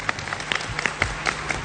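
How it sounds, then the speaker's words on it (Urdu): Studio audience applause on a televised Independence Day special show, a brief burst of scattered clapping at moderate level with no talk over it. "بہت ساری تالیاں ہو جائیں"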